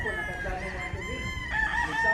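Chickens cluck and a rooster crows over a busy farmyard background at a farm in Tabogon, Cebu, with a faint voice somewhere in the mix.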